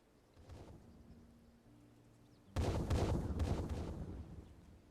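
Explosion in the League of Legends video game, a sudden loud burst that decays into rumbling after a quieter stretch of faint game sounds.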